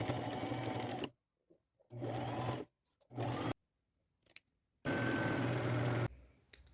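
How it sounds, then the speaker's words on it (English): A sewing machine runs a straight stitch along a fabric bag in three short bursts and one longer run, a steady close whirring hum with quiet pauses and small handling clicks between the runs. "I will sew a straight stitch along here."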